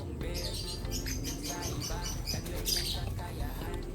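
Pigeons in a loft: faint, scattered chirps and soft calls over low rumbling background noise, with a voice heard nearby.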